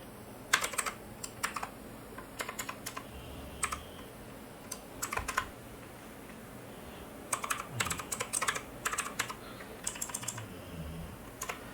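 Fingers tapping out PostgreSQL connection code in Python on a computer keyboard, in irregular bursts of close, crisp clicks separated by short pauses, with no voice over it.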